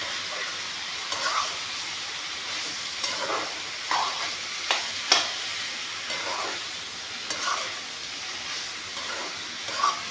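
Meat frying with pumpkin and potatoes in a pan gives a steady, close sizzle and hiss, broken by a few soft scraping stirs.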